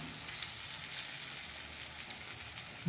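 Brinjal pieces shallow frying in oil in an open pan over low heat: a steady, continuous bright sizzle with a faint crackle throughout, close and alone.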